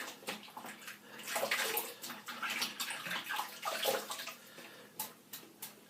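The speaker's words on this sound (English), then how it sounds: "Just give my brush a little rinse out." Running tap water splashes steadily while a shaving brush is rinsed, a close, soft, continuous gush with small fluctuations and no talking.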